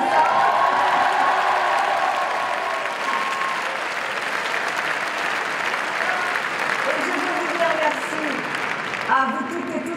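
A crowd at a presidential campaign rally in Paris applauds, a thick sustained clapping with light cheering that carries on for the whole stretch. A voice briefly rises near the end.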